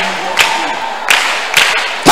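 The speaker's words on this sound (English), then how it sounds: "Clap your hands, everybody." A worship congregation claps along during a lively praise session, with dense broadband clapping punctuated by a few louder sharp bursts and some voices mixed in.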